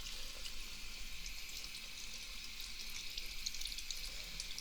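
Steady running water drains into a sink during washing, a continuous soft hiss and splash that stays fairly faint and close throughout with no voices.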